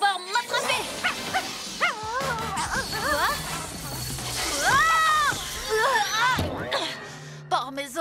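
A dog barks and yips excitedly amid splashing and lively cartoonish voices, with whimpering tones mixed in over a busy, loud soundtrack.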